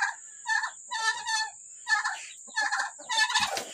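Several loud male turkey gobbles in quick bursts, each a rapid warbling rattle, repeated about five times with short pauses between.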